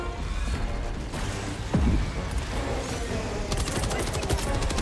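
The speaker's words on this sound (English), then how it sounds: "there's like the barrage going down behind you" Orbital barrage explosions rumble through a Helldivers 2 battle, a dense stream of blasts and gunfire-like bursts with one heavier close impact partway through, continuing steadily with voices talking over the din.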